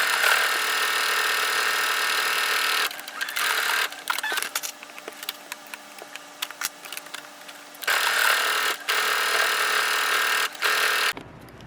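A sewing machine stitching the cup of a homemade bikini top, running in steady mechanical bursts separated by short pauses and quieter handling noises, close and clear with no talking.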